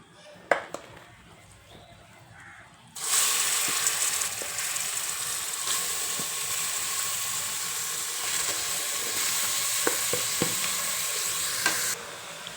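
Chicken with onion, tomato and masala sizzles in a pressure cooker pan while being stirred. After a quiet start with a few clinks, a loud, steady frying hiss sets in with occasional scraping knocks, then drops away near the end.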